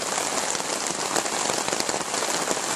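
Heavy rain pours down outside a tent in a dense, steady roaring hiss of countless drops drumming on the surface, loud and unbroken, with no voices.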